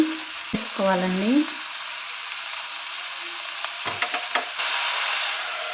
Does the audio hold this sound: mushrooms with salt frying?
yes